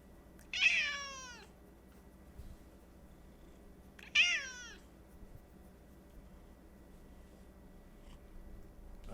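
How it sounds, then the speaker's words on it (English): A pet cat gives two drawn-out meows several seconds apart, close and clear against a quiet indoor room, with no voices. "Talk too much, talking cat."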